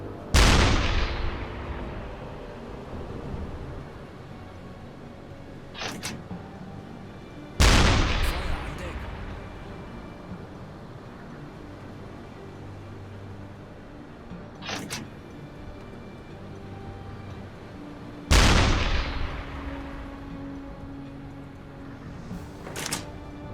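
Deck gun of a U-boat firing in the UBOAT video game, four heavy booming shots spaced several seconds apart, each with a long rumbling decay, followed by sharper distant impact cracks between them.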